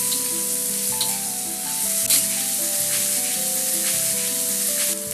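Bay leaves and bruised galangal are stir-fried with spices in a hot pan, giving a steady loud sizzle and crackle with occasional stirring scrapes, while soft music plays underneath and nobody speaks.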